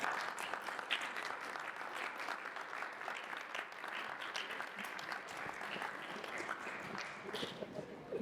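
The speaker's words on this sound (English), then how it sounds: "Please welcome him with a huge round of applause." Steady applause from an audience at a sports management talk in Karachi, dense and even throughout at moderate distance, with faint voices underneath.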